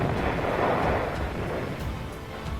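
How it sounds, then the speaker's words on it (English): Deep, rumbling roar of a grenade explosion in World War II battle footage, a dense low boom that fills the air and stays heavy throughout without any clear sharp onset. "There goes a grenade"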